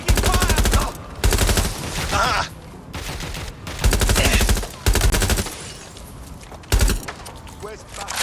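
Automatic gunfire in the video game Watch Dogs: Legion, several loud rapid bursts separated by short gaps, with shouting voices in between.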